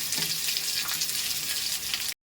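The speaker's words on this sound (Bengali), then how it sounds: "আমি কড়াইতে তেল গরম করে নিয়েছি এতে আমি কুচনো পেঁয়াজগুলো একটু ভেজে নেব" Chopped onions fry in hot oil in a wok, giving a short, steady hissing sizzle at moderate volume before it abruptly cuts off.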